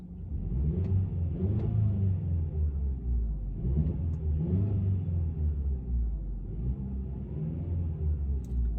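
A 2020 Genesis G70 2.0T AWD engine idles with a steady low rumble, rising into a few brief revs before settling back, close and continuous with no talking.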